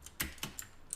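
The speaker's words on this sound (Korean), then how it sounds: "일단 엔터 한번 누르고요" Computer keyboard keys click a few times in quick succession, soft and close, with two sharper taps standing out in a quiet room.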